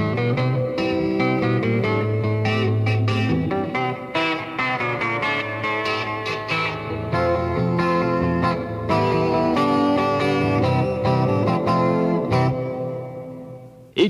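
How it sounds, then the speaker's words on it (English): A Vox stereo guitar with its pickups mixed together plays a busy, continuous run of strummed chords and picked notes, bright and effect-laden, steady in level until a sudden cutoff at the end; no speech. "And the pickups can be mixed with one another with a flick of the finger."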